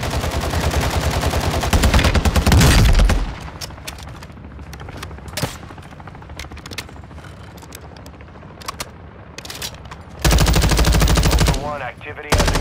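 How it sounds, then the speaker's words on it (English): Rapid automatic gunfire rattles in Call of Duty: Modern Warfare II, loud sustained bursts at the start and again near the end, with scattered single shots and quieter combat noise between. "You are taking effective fire."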